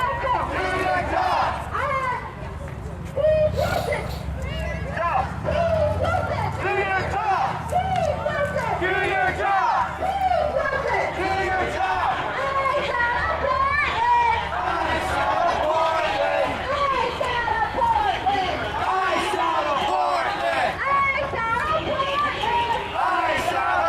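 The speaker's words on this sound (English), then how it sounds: "This crowd is so loud they've drowned out Tommy completely." Loud street protest crowd in Portland, a dense babble of many voices and shouts filling the air continuously, close around the listener with no single voice standing out.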